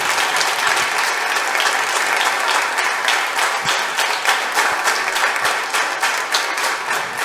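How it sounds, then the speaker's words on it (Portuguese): Strong applause from a church congregation clapping for Jesus, a loud, sustained, dense roar of many hands with a few sharper claps standing out, continuing without letup. "Quem pode aplaudir Jesus bem forte?"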